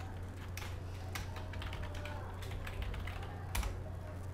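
Someone types a login email on a computer keyboard. The key clicks are close and crisp and come in quick irregular bursts, with a few louder taps over a low steady hum.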